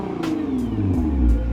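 Car engine revving up briefly, loud and close, a short rising roar with a few rhythmic pulses.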